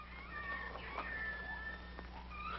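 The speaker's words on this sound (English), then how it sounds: "That's just a little baby lion" A lion cub mews in a 1949 Abbott and Costello jungle comedy, giving thin, high cat-like cries that rise and fall over a steady background hum, with no talking.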